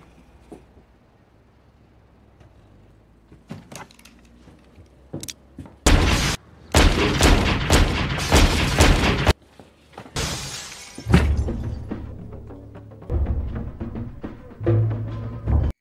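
Loud bursts of pistol gunfire fired out of a window in a film, two long volleys with sharp cracks, separated by brief quieter gaps and followed by scattered softer sounds.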